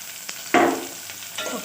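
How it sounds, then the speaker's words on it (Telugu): Onions, green chillies and curry leaves frying in oil for a mutton curry, a brief sizzling burst that flares up then settles, with a second softer sizzle near the end. "పచ్చిమిరపకాయలు, కరివేపాకు వేసుకొని ఫ్రై చేసుకుందాం"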